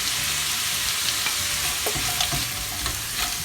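Tofu pieces fry in a hot pan with a steady, bright sizzle. Irregular scrapes and clacks of stirring break through it at close range.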